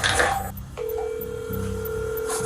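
Phone dialing: a steady tone after brief noise, then a sustained ringback-like tone running alone for about two seconds as a girl calls her mother.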